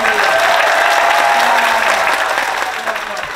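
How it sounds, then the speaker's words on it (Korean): Circus audience in an arts centre hall applauding on cue, a loud, dense burst of clapping that holds and then tapers slightly, with voices mixed in. "그러면 박수를, 박수 시작"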